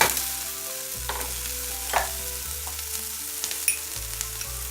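A chapati pizza topping cooks in a pan over a medium flame, with a soft continuous sizzle, occasional stirring clicks and steady low background tones.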